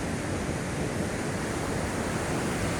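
Heavy ocean surf whipped up by Typhoon Kristine roars continuously, a dense wash of crashing waves mixed with wind noise, loud and unbroken throughout.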